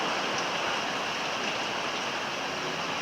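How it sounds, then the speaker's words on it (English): Steady winter rain pours down, forming a dense, even hiss that stays constant throughout with no other sounds. "It's just raining."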